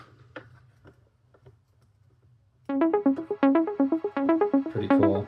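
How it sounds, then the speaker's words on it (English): A Diva software synth arpeggiator plays a quick, plucky repeating pattern of bright notes that suddenly enters after a few faint clicks and runs on evenly and loudly to the end. "opened up Diva, and made an arpeggiator with Diva using the settings"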